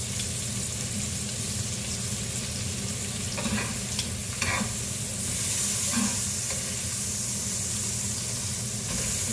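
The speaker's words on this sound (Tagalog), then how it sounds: "Yung taba na lang ang lutuin natin guys." Pork fat frying in a pan, a steady sizzling hiss with occasional faint stirring scrapes, close and continuous with no talking.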